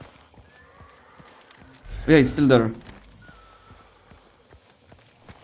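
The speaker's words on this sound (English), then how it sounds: "There was a sound of horse." Horse hooves clip-clop sparsely and faintly in the background of the Hunt: Showdown video game, while someone speaks briefly in the middle.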